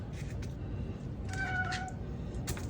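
Silas the cat whines in a few short, high meows near smoked salmon being prepared, with quiet kitchen handling noises around them.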